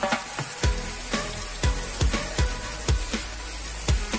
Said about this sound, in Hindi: तेल गरम होने के बाद मैं पैन में चॉप्ड अनियन डाल दूंगी